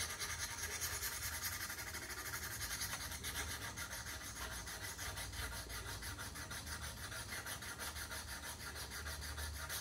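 A wooden spokeshave blade is rubbed back and forth on a diamond sharpening plate, a continuous gritty scraping at close range with a steady stroking rhythm and no talk.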